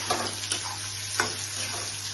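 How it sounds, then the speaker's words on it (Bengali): Atta-coated pointed gourd frying in a pan, a close, steady sizzling hiss with a few soft crackles and stirring touches, no voices. "আবার সেইভাবেই ফ্রাই করব"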